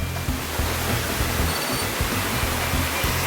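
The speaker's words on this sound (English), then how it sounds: "She's a little scared of the waterfall, I think." North Carolina waterfall, a steady loud rush of falling water filling the whole clip, with low rumbling.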